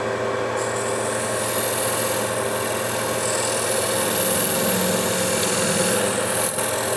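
A steel scraper, homemade from an angle-grinder disc with a slight curve, cuts the outside of a wooden bowl spinning on a lathe, giving a steady, loud raspy scraping over the motor's continuous hum, with no talk.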